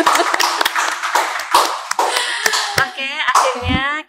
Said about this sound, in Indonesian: Tepuk tangan dong untuk kalian.